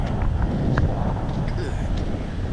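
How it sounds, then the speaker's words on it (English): Wind blowing hard at the ocean on Ocracoke Island, a steady low buffeting rumble across the microphone, continuous and close, with faint bits of voice in the background. "I hear the wind blowing, so I know it's windy over there."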